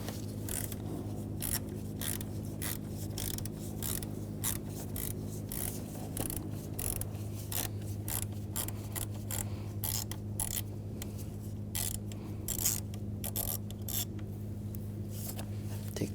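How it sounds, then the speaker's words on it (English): Quick repeated clicking of a ratchet with a T30 socket working out the upper screws on the radiator fan assembly of a 2011-2018 Volkswagen Jetta, steady close ticks under a constant low hum, no talking. "Now the screws up top, we're going to take those out."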